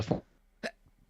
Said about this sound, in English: I also burped.